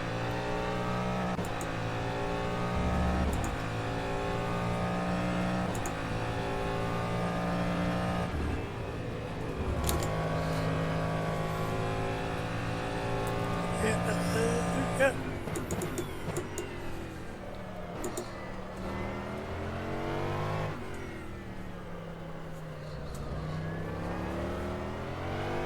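Race car engine in the rFactor 2 sim, endurance content, revving loudly and continuously with rising and falling pitch sweeps through gear changes, close and dominant with no talk over it.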